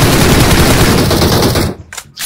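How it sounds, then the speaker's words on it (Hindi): Rapid automatic gunfire in the battle royale game BGMI comes loud and close as a continuous burst, then tails off into a few separate shots. "फायरिंग तो कीजिए फायरिंग तो कीजिए भाई"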